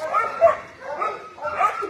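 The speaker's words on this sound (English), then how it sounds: "They're about to feed the dogs here, so I'll wrap it up." Dogs at a Kern County animal shelter bark and yip in three short bursts around feeding time, fairly close and loud, with whimpering tones mixed in.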